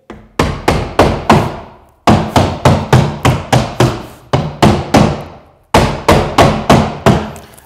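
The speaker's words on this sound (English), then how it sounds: "with your claw hammer, initially you're only trying to weaken it." A claw hammer strikes 6mm HardieBacker cement board along a scored cut, sharp loud blows in quick bursts of four to six, separated by short pauses.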